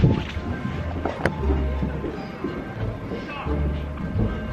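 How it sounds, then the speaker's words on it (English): Rough, buffeting wind noise rumbling across the microphone outdoors in Switzerland throughout, with faint voices mixed in. "it's super duper windy"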